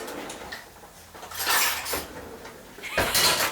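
A tin of chopped tomatoes tipped into a cooking pan for a fish finger curry, giving a wet splattering whoosh with a second louder pour and clatter near the end, close and alone.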